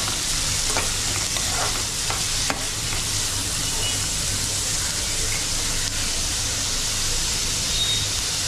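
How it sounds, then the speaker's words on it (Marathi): Finely chopped onion hitting a hot pan, giving a loud, steady, hissing sizzle that runs unbroken throughout, with a few faint clinks near the start. "आता कांदा टाकून घेतोय. कांदा आम्ही बारीक चिरून घेतलेला आहे."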